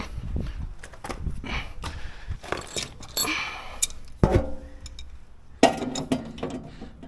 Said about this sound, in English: I'll have to just grab a spanner or a crescent to tighten that up